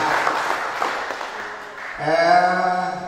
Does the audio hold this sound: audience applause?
yes